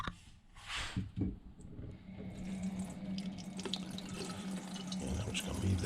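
Garden flowers are given a light rinse under running water from a tap, a steady faint splashing stream with a few brief knocks at the start.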